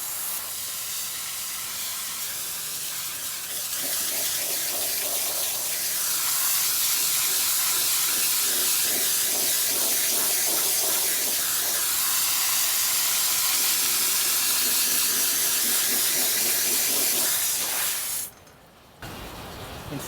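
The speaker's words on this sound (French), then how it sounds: "vous prenez tout simplement cet outil pour le jardinage et vous arrosez de haut en bas" A garden hose spraying water from top to bottom over a pool cartridge filter, a loud, steady hiss of spray running for nearly the whole clip before cutting off abruptly near the end.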